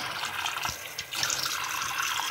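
A bathroom tap runs steadily while someone washes their face, with water splashing and gurgling into the sink throughout and a brief dip in the flow partway through.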